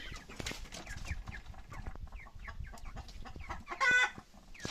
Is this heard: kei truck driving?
no